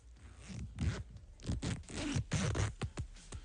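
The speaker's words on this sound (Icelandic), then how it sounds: "hann er sem sagt að leyfa ykkur að heyra hversu góður rennilás er á Samsonite töskunni" A zipper on a Samsonite backpack is pulled open and shut in several quick, rasping strokes with short pauses between them. It sounds close and fairly loud, with no talking.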